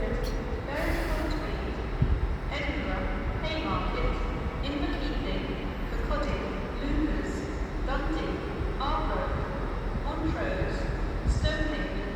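An LNER train heading to Morpeth rumbles continuously nearby, with repeated clanks and rattles of the carriages over the rails, while voices talk over the noise.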